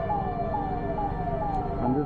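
Whooping cycles from a small Indian ambulance siren repeat steadily, moderately loud amid dense traffic rumble, with a brief horn-like tone near the end.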